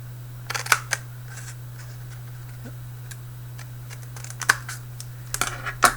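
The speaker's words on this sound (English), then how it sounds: "For this demonstration, we just use scissor, and we're gonna cut like a small triangular shape like this." Scissors snip a small triangle out of a folded paper airplane, producing a handful of short, crisp clicks and paper crinkles in two brief clusters, close and fairly quiet against a low steady hum.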